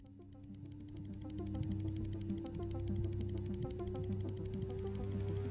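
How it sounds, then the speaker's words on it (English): A steady 500 Hz sine tone at amplifier gain 5, produced by in-game equipment in Stories Untold, holds as a continuous pure hum over low buzzing background noise that grows louder partway through and stays level. "500 Hertz sine wave, amplifier gain of 5"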